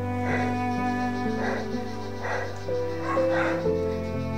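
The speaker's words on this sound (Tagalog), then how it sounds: "Aso, may dala silang mga aso tol." Dogs bark at close range in four evenly spaced bursts, with whimpering yips between them, over a low steady hum and some background voices.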